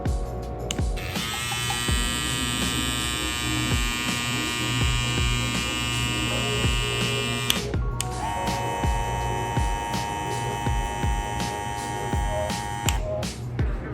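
A BaBylissPRO FX Skeleton hair clipper runs with a steady, close electric buzz and hum. It cuts out briefly around the middle, then resumes just as evenly, with no talking.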